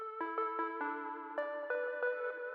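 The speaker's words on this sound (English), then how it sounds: "I just wanted to add some like bell melody that has some sort of rhythm to it." A synth bell preset, Xenology Bell 9 in FL Studio, plays a short rhythmic melody of bright, ringing bell notes with echo, heard clean and alone.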